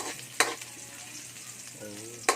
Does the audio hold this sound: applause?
no